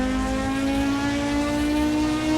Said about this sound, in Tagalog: Kusog kayo na ilang makina.